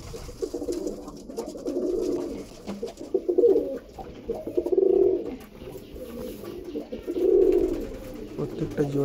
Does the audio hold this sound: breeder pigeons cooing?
yes